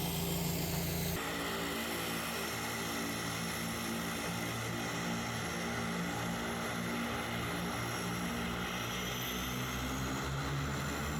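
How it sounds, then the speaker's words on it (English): A float plane on two pontoons drones with a steady, loud propeller engine roar at a remote Canadian fishing camp, holding a constant pitch after a brief shift at the start. "The float plane, it sits on 2 pontoons."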